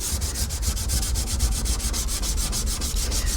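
A cloth or pad rubs glaze color off a lacquered wood panel in quick, regular back-and-forth strokes, each a close, scratchy swish repeating steadily with no talk.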